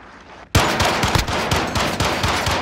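Automatic gunfire in the video game Call of Duty: Modern Warfare erupts after a brief quiet moment, a loud rapid burst of close shots that keeps hammering in a fast, uneven rhythm.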